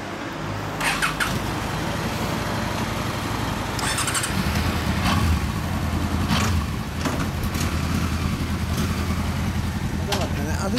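A 2008 Honda CB1300 Super Four fitted with a Yoshimura exhaust idles close by, a steady low throbbing rumble with slight shifts in pitch and brief bursts of background noise.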